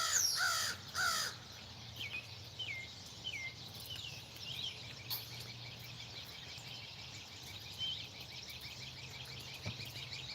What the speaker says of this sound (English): There went a big crow. There's crows everywhere right now.